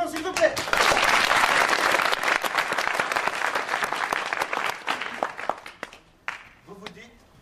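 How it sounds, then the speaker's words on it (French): Audience applause at a live improv theatre show in a hall, dense and loud clapping for about six seconds before thinning out and stopping, with a voice briefly heard at the end. "Applaudissements s'il vous plaît."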